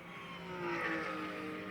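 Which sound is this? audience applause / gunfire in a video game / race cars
race cars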